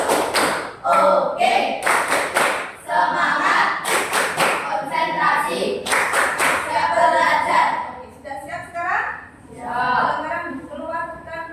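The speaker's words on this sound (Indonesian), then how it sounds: "Tepuk konsentrasi." A class performs the 'tepuk konsentrasi' clapping routine: sharp, rhythmic bursts of group claps and taps in quick sets, with children's voices chanting and speaking between them in a lively classroom.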